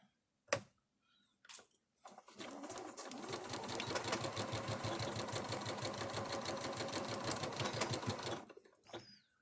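A domestic sewing machine stitching fabric for a housecoat, a few isolated clicks and a short burst first, then a fast, even mechanical chatter running steadily for about six seconds before stopping, close and fairly quiet.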